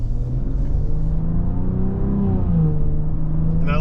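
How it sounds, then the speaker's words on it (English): A 2024 Maserati Levante GT Ultima SUV accelerating smoothly through its gears, a steady close engine drone with rising and falling pitch sweeps as the transmission shifts, heard from inside the cabin. "And I love the acceleration. Nice and smooth, gets through the gears."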